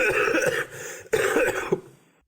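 Two harsh, hacking coughing fits in a row, close and loud, each a rough burst with a brief pause between.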